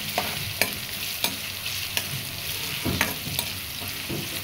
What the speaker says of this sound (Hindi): अभी अदरक लहसुन डालने के बाद हम इसे 10 सेकंड के लिए चला लेंगे।